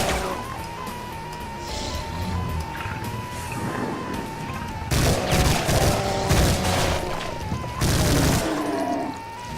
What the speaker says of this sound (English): when is the spider going to start shooting me?